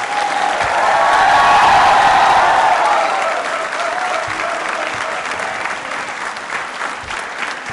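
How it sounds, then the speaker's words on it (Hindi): Students of Rawat Public School in Pratap Nagar applaud during a school quiz show, a dense, loud wash of clapping that peaks early and then settles at a steady, slightly softer level for the rest of the stretch. "अपने समर्पण के लिए जोरदार तालियां बजाओ एक बार"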